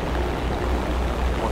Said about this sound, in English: We're flooding.